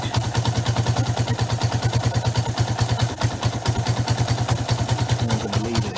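A Suzuki GN125 motorcycle engine idles steadily after being started on choke, its low, even firing pulses chugging close by with a light mechanical clatter and no voices throughout.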